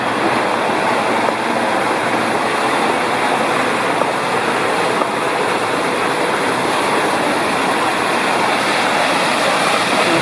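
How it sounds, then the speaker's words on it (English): A waterfall roars in a constant loud, broadband rush that stays steady and close throughout, with no voices or other sounds breaking through. "a waterfall here."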